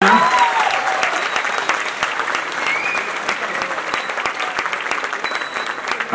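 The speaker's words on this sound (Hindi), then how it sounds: "अब तो जोरदार ताली होनी चाहिए।" Loud, sustained applause fills an award ceremony hall honoring a tabla maestro, a dense, steady clapping from a large audience with no pause.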